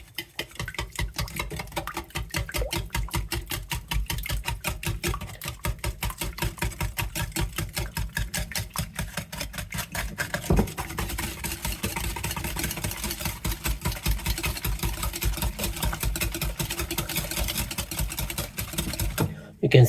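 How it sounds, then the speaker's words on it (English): An electric mixer whirs through carrot cake batter with a rapid regular mechanical pulse, steady and close for the whole stretch, with the tone shifting slightly partway as the batter thickens. "Here is the mixer."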